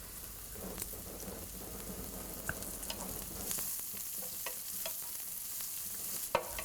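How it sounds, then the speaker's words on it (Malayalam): Onions and curry leaves sautéing for a ridge gourd stir fry, a soft steady sizzle with occasional scrapes and taps of a spoon stirring in the pan, close and fairly quiet. "ഇതിലോട്ട് നമ്മൾ കറിവേപ്പില ഇട്ട് വഴറ്റുക."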